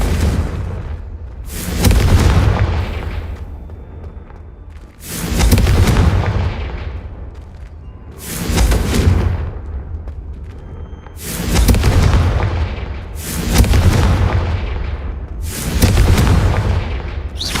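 Confringo explosive spell cast repeatedly in Hogwarts Legacy, six loud booming blasts spaced about two to three seconds apart, each with a rumbling tail that fades before the next hit.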